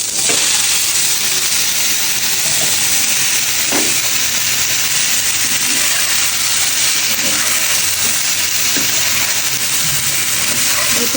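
Frozen cauliflower florets coated in turmeric frying in hot oil, a loud, dense hiss and crackle of sputtering oil that stays steady throughout, with a few soft knocks of stirring and no voices.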